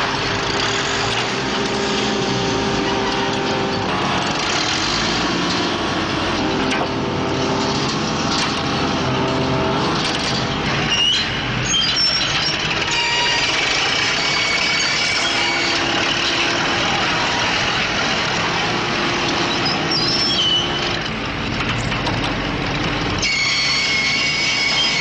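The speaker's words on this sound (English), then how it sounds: "Using a 600 horsepower crane," A 600 horsepower crane engine lifting a block of coral rock, heard as a continuous loud mechanical drone with some clanks and rattles running for the full stretch. No one speaks.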